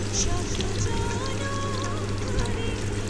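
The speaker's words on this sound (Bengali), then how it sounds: "পাইপেনে তেল গরম করে পেঁয়াজ কুচি দিয়ে দিলাম পেঁয়াজ কুচিগুলা তেলে দিয়ে লাড়তে হবে" Chopped onions sizzle steadily in hot oil in a pan while cooking noodles, a continuous close crackling hiss that runs through the whole stretch without pause.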